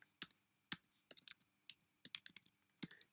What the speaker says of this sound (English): I use the tab key there to save some typing